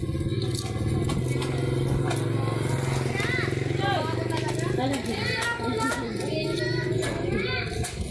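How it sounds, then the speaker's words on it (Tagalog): A motorcycle engine runs close by and rumbles past on a street, while children play and chatter loudly over it. "Ay, may motor ha."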